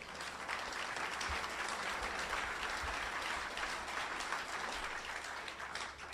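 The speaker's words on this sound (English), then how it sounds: "those applause are terrific" A large audience applauds a speech against corporate constitutional rights, dense steady clapping throughout with no voices over it.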